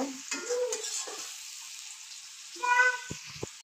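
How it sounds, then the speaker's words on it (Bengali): Prawns and onion fry in a pan while being stirred: a steady close sizzle with scraping stir strokes, a few brief sharper clicks near the end. "নাড়াচাড়া করে এটাকে আমি ভাজে নেব।"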